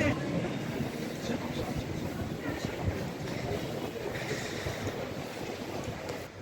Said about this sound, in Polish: Lokomotywa PZ7034 pociągnęła pociąg z Słupska